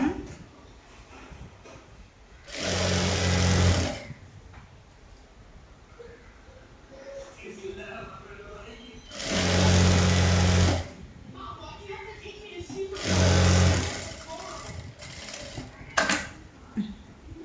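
A sewing machine stitches a folded hem on the leg of a cigarette-bottom straight pant, running in three loud bursts of about a second each with quiet handling noises between them.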